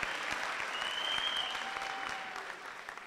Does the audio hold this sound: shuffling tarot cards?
no